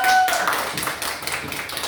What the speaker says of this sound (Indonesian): Beri dulu tepuk tangan untuk Nadia.